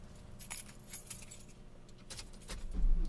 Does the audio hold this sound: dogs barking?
no